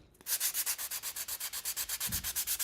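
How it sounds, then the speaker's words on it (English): Edges of a handmade Christmas ornament being sanded by hand in quick, even back-and-forth strokes, a close rhythmic rasp of about twenty passes. "Let's sand the edges."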